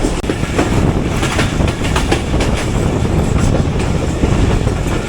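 Pakistan Express passenger train rolling along the line while braking, a loud continuous rumble of wheels on rails with rhythmic clatter and a faint metallic screech, heard close from on board.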